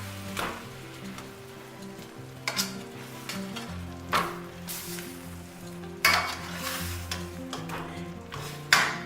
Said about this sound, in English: Once these are ready to turn, they do not have to be all the way cooked through. You just want to get them brown on each side.